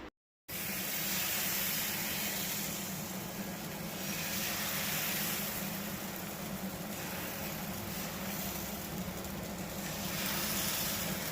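Bottle gourd and rice flour dosa batter sizzles on a hot pan, a continuous close hiss that starts after a moment of silence and holds steady without talk.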